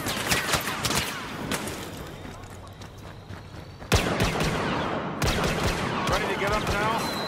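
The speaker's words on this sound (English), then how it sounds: "Who wants some blaster fire?" Blaster fire in the Star Wars Battlefront video game: dense, rapid volleys of sharp laser shots crackle loudly through the whole stretch, with two sudden bursts standing out, over a busy battle din.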